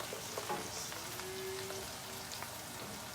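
Garlic, onion and thyme sautéing in a pan for steamed mussels in white wine, a faint, even sizzle with a few light crackles throughout.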